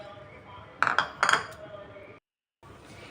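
A spoon scrapes and clinks against a pot while coconut and jaggery are stirred together, giving a few sharp metallic knocks and soft scraping before a brief silence.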